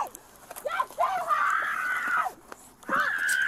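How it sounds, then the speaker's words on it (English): A man screams in pain from his chest in drawn-out, strained cries that rise and fall, with a short break between two long bursts. "What are you screaming for?"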